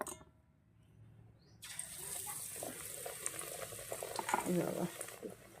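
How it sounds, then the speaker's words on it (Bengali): Batter-dipped eggplant slices go into hot oil. After a quiet start, a sudden loud sizzle bursts in and keeps bubbling and crackling nearby, swelling as more slices are added. "এবার বেগুনগুলো চুবিয়ে চুবিয়ে আমি দিয়ে দেব তেলে"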